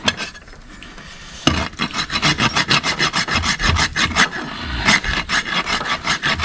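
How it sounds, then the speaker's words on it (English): A farrier's rasp files a Suffolk draft horse's hoof for shoeing, producing loud, close, rhythmic rasping strokes in a steady back-and-forth series with no talk. "rasping a spot so that toe clip will fit in there where I want it to fit, so that the shoe fits right."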